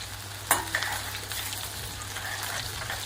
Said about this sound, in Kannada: ಎಣ್ಣೆ ಚೆನ್ನಾಗಿ ಕಾದ ನಂತರ ಜೀರಿಗೆ, ಹೆಚ್ಚಿಟ್ಟಿಕೊಂಡಿರೋ ಬೆಳ್ಳುಳ್ಳಿ ಹಾಕ್ಬಿಟ್ಟು ಚೆನ್ನಾಗಿ ಫ್ರೈ ಮಾಡ್ಕೊಳ್ಳಿ